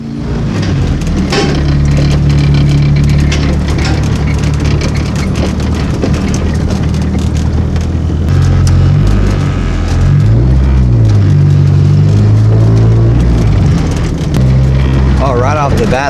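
A car engine fires up and drives down the road, a loud, continuous engine drone whose pitch rises and falls with revs, wrapped in heavy road and cabin noise.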